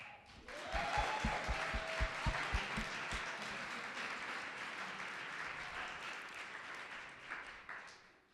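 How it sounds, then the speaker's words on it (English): An audience at a drug policy conference claps, opening with a few distinct near claps that swell into steady, fairly quiet applause before it slowly tapers off. "You should clap for that."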